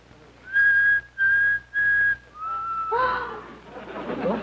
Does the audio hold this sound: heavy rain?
no